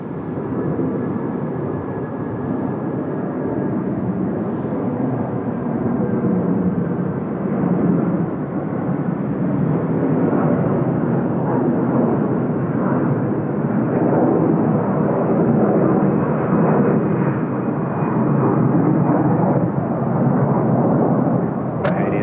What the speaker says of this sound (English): Hong Kong Airlines off to Hong Kong.